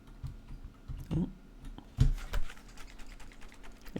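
Computer keyboard typing, a few scattered key presses and clacks at close range, with a sharper burst of keystrokes around the middle, alone without talk.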